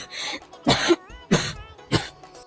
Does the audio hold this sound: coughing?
yes